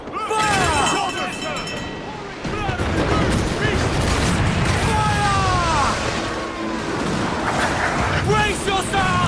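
Naval cannon fire booms repeatedly during a ship battle in Assassin's Creed Black Flag, the blasts layered with crashing effects and shouted voices over a loud, dense game soundscape.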